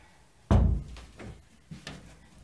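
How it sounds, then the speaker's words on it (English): An indoor door swings shut with a single loud thud close by, followed by a few softer knocks and handling sounds in a quiet room. "I thought I'd close the door."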